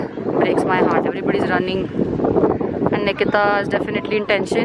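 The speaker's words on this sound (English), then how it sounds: "it's very, very windy right now." Strong wind, with rain starting, buffets the microphone with a constant rushing roar, heard beneath several people talking hurriedly close by.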